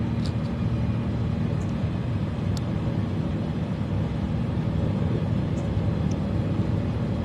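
A Zlin light aircraft in Flight Simulator 2024 turns onto final approach, its engine a steady, low, muffled drone that stays constant throughout.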